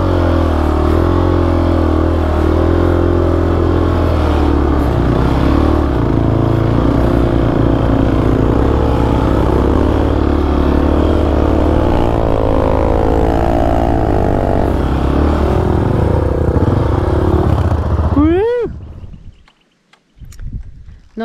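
Yamaha XT 250 motorcycle ridden loud and close on an Australian outback track, a steady rough engine drone with wind rumble that suddenly drops away near the end as the bike cuts out, leaving near silence.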